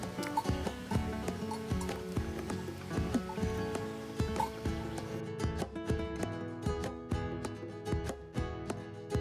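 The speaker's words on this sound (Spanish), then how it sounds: "Y caballos por ahí arriba también hay bastantes." Horses walk nearby along the Camino de Santiago, steady clip-clop hoofbeats in an uneven rhythm, fairly close and clear, with no talking.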